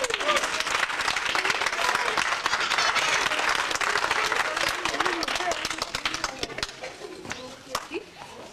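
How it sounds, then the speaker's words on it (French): Audience applause at a 1997 twinning event welcoming children, a full burst of clapping that gradually thins out, with voices and chatter mixed in. "Et je crois qu'on peut les applaudir."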